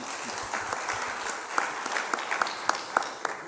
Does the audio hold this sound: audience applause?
yes